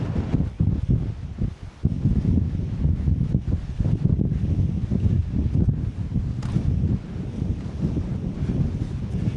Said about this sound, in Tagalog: Ang lakas ng hangin